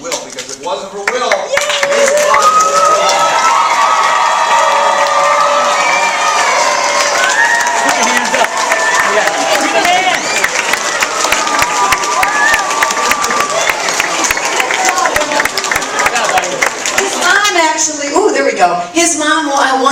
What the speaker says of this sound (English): We should all start clapping right now for Will